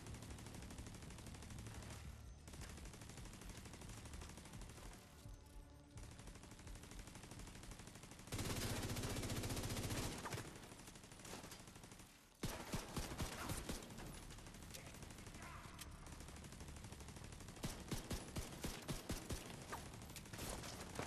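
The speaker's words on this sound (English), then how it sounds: "Who's shooting?" Gunfire in The Division 2 during an ambush: loud, dense bursts of rapid automatic shots with occasional single cracks and mechanical clatter, continuing through most of the stretch with brief lulls.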